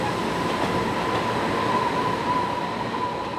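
A small train runs past on the Taitung railway line near Yuli in Hualien, a steady rumbling roll with a faint metallic wheel whine held throughout.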